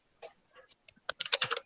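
Bursts of typing on a computer keyboard, sparse keystrokes at first and then a quicker run of close, crisp key clicks, with no voices.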